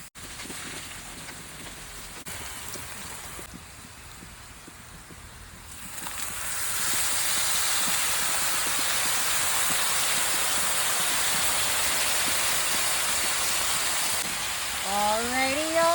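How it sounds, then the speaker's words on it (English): Flipped potatoes sizzle in a pan for a German-style dinner, a loud steady frying hiss that swells after a quieter opening and holds to the end. "we're just gonna give our taters a quick"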